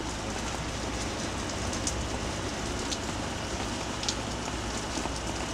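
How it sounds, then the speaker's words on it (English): Rain falls steadily outdoors as a dense, unbroken hiss at moderate volume, with occasional brighter drop ticks and no voices. "More rain."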